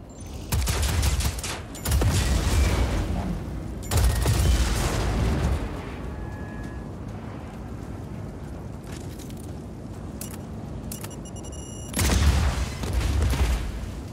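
A grenade explodes in the Just Cause 4 video game as a series of loud, booming blasts with rumbling gunfire-like bursts, separated by quieter stretches of lingering noise.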